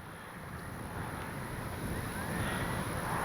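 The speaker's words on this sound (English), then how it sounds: "Wind is so unpredictable today." Wind buffeting a microphone at an RC model airfield, a loud continuous low rushing roar that builds slightly over a few seconds, with no talking.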